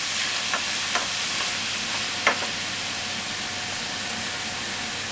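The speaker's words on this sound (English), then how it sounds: "right now all we're going to be doing is starting to break up these cornbread here" Cornbread being crumbled by hand for dressing, a soft, steady granular rustling with a few small crisp crackles and taps, no talking.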